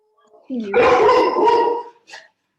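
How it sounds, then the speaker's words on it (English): A pet dog barks indoors during a conversation, one sustained, strained bark followed by a short yip, loud and close. "That's my dog barking away."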